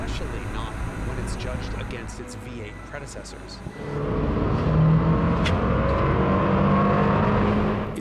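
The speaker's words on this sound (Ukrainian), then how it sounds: "Турбований чотирициліндровий двигун Toyota це безумовно найгрубіший" A turbocharged four-cylinder Toyota Land Cruiser engine revs hard with a coarse, buzzing roar, building louder partway through as it accelerates, with some voice over it early on.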